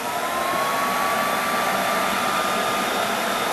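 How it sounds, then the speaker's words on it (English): A flocking sprayer blasts wetted artificial snow onto a Christmas tree in a loud, steady, unbroken rushing roar like a vacuum or blower, with a faint high whine running through it. "It takes about 5 minutes to spray down the tree with flocking evenly."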